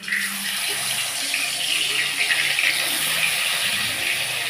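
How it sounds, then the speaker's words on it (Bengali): Pomfret fish frying in hot mustard oil, a loud, steady hiss and bubbling sizzle close up throughout, with no talk. "তেলটা আমার গরম হয়ে গেছে, এইবার আমি মাছগুলো ছেড়ে দিচ্ছি"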